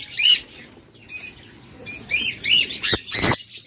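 A matched pair of sun conures gives loud, harsh squawks in short bursts, close and repeated, with no talk.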